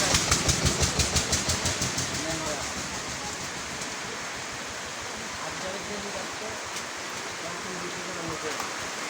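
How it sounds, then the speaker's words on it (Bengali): Heavy rain falls in a dense, steady roar that stays loud and unbroken for the whole stretch, with a slightly busier patter at the start. "এ কি বৃষ্টি বৃষ্টির মাঝেতেই সবাই চলে যাচ্ছে"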